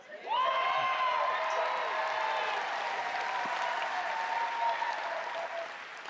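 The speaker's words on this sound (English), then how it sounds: "Crowd goes crazy" A large audience at the Bethesda E3 press conference breaks into loud, sustained applause and cheering, with whoops rising above the clapping before it gradually tapers off.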